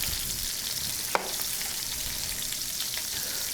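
Grouse meat browns in a pan with a steady, close sizzle and crackle, broken by one brief clink of a utensil partway through.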